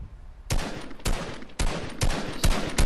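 Gunfire in the video game Fortnite as a player gets sniped: a series of sharp, loud shots arriving roughly every half second, each with a brief noisy tail, and no talking.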